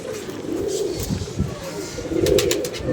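Pigeons coo softly in a rooftop loft, low murmuring calls repeating over a continuous background of movement and rustle, fairly close and unaccompanied by speech.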